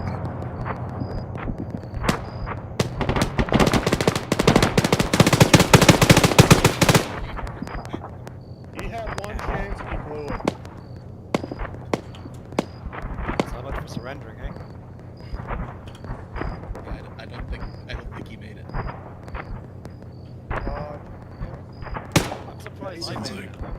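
Gunfire in the Arma 3 video game starts with a dense, loud burst of rapid automatic fire. Scattered single shots and distant cracks follow, with people talking over it.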